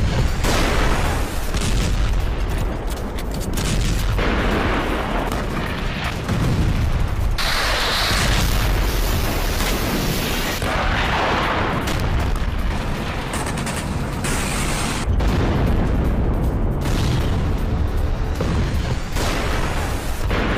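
Heavy gunfire and explosions at border posts between Afghan and Pakistani forces, a dense continuous roar of booms and rapid shots layered over each other, loud and sustained throughout.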